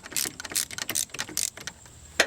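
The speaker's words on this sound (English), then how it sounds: "So I'm gonna put a wrench on the head of that right there, and the socket on this side." Ratchet socket wrench loosening a starter bolt on a Ford F250 7.3L diesel, a quick run of close, crisp clicking bursts in uneven rhythm, then a brief pause and one last sharp burst.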